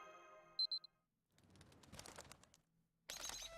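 Alarm beeping in Fate/Grand Order, a short burst of bright, sharp electronic beeps over quiet game music, then a rustling clatter and a loud noisy chime near the end.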